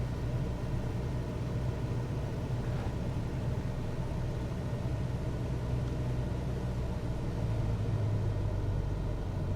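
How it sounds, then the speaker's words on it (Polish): Aircraft engine in Microsoft Flight Simulator 2024, throttled back to low revs to bleed off speed on approach to landing, a steady low droning rumble with a constant hum throughout, no voices. "Stawię silnik na niskie obroty, żeby wytracić prędkość."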